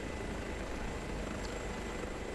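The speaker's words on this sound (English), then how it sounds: "Look at that lovely, lovely helicopter." Airbus H145 helicopter in Microsoft Flight Simulator over the Italian Alps near Bolzano, a steady droning rotor and turbine hum, quiet and unbroken.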